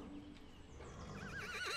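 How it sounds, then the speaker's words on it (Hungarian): A cartoon horse whinnies in a barn, a loud close neigh with a rising, wavering pitch over a soft background, with hoof-like clopping and no speech. "Hirtelen egy ló dugta ki a fejét az ajtó fölött"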